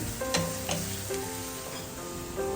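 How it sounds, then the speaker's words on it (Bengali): Chopped onions frying lightly in a home kitchen pan, a soft continuous sizzle with a few faint spoon clinks, quiet and close, and no talking. "আমি এখানে পেঁয়াজ কুচিগুলোকে দিয়ে হালকা করে ভেজে নিচ্ছি"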